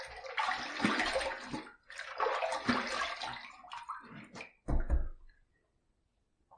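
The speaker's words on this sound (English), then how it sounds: "Let's rinse." Tap water runs in loud, uneven bursts while a face and razor are rinsed after a second shave pass, then cuts off into near silence.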